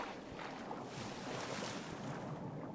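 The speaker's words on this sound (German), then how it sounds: "Hier ist der Wasserfall, der reinkommt." Steady broadband rushing of a waterfall pouring into a cave in the survival game The Forest, a continuous dense wash with no breaks, fairly close and alone without talk.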